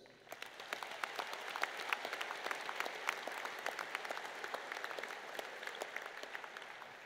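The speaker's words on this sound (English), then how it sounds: "Round of applause, please." Sustained applause fills a high school graduation ceremony, the Papillion La Vista South Class of 2018, a dense, steady wash of many hands clapping at once, holding an even level throughout with no voices over it.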